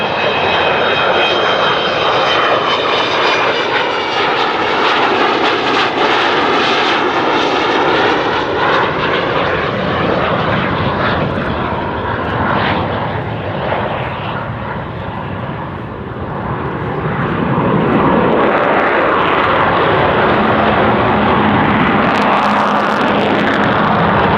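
An Avro Vulcan bomber flying its final display at Cosford Airshow 2015, a loud, sustained roar of jet engines with a howling tonal whine, swelling and fading as the aircraft passes and climbs away.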